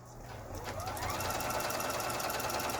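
A Juki HZL-G110 sewing machine, just repaired, spins up as its foot pedal is pressed, its steady mechanical whir building and then holding a close, even running hum.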